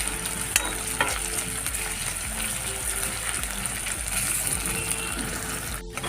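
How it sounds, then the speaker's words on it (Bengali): Onions dropped into hot oil in a pan for a fish curry, a continuous loud sizzle close by with stirring scrapes and a brief clink, no talking. "তেলটা সুন্দর করে গরম হয়ে পড়ছে, এখন পেঁয়াজ দিয়ে দিতেছি।"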